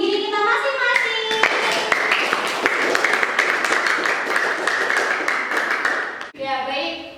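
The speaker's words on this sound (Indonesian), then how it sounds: "Sekarang tepuk tangan untuk diri kita masing-masing." A classroom of children claps their hands for themselves in a dense, lively burst lasting several seconds, with a speaking voice just before and after.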